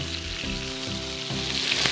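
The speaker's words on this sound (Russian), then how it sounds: "Жарим до красивого колера, чтобы рыба у нас в то же время оставалась сочная." Perch fillets sizzling and frying in a hot pan, a steady loud crackle with bursts of popping oil throughout, no voices.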